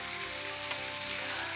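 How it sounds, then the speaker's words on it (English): Steady crackling sizzle of oxtails deep frying in hot oil in a deep fryer, fairly quiet and continuous, with a couple of faint pops. "we got a nice fry daddy on those oxtails, and it's frying good"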